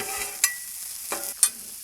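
Broccoli tossed in oil on a hot Blackstone griddle, a bright, continuous sizzle with three quick scraping clacks of the spatula, close and fairly loud.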